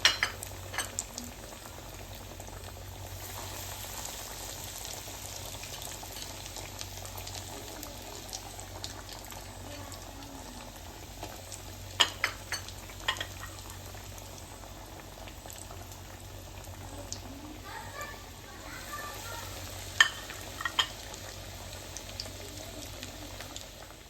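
Breaded chicken cutlets fry in a pan over medium flame, a long steady bubbling sizzle with scattered sharp pops and occasional clinks, continuing without speech.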